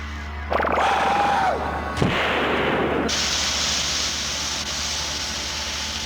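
Loud bursts of gunfire and explosive blasts from the sci-fi horror film Nightbeast, with a brief whistling tone, then a sustained hissing roar that lingers after the impacts.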